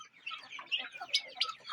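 Broad-breasted white turkey poults chirp and peep in quick, high-pitched bursts, close by and fairly soft.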